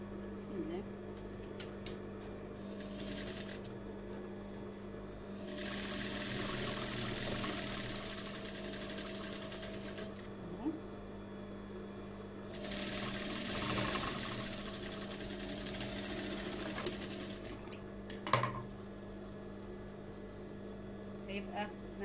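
Sewing machine stitching bed-sheet fabric around a curve while making a summer shorts garment, running in two steady bursts of even mechanical whirring over a constant motor hum, with a few sharp clicks near the end and no talk.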